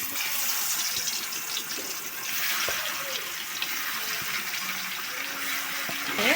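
Small puti fish coated in chili, turmeric and salt fry lightly in hot oil, making a steady close hiss with occasional sharp pops and utensil clicks throughout.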